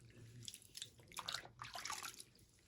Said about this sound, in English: Make sure I rinse all of that soap out of her head.